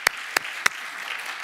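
A church congregation claps during a Sunday sermon, a thin wash of scattered applause beneath a few sharper, louder individual claps spaced evenly apart, with no talking over it.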